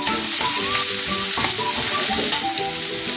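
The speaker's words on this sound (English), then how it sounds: "I just want to stir fry with my garlic and shallots to be more tasteful" Garlic and shallots stir-fried in hot oil for Filipino sopas, a loud steady sizzle close up with occasional scraping of the stirring utensil.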